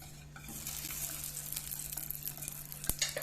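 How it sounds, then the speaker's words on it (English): Butter being whisked into hot sugar for caramel popcorn, a steady close sizzle and scraping stir with a brief sharp clink near the end. "Whisk it in until the butter completely combines with the sugar."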